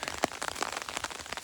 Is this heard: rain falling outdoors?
yes